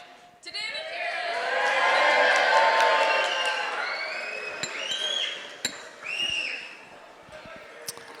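Wedding guests at Karen and David's reception cheer and applaud after a toast, a loud swell of mixed clapping and shouting that peaks and then tapers, with voices calling out over it.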